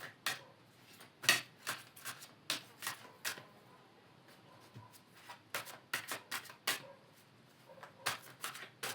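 Tarot cards are shuffled and drawn in a quiet room, giving a string of short, crisp riffling flicks and slaps, separate and uneven in rhythm, close by and fairly soft.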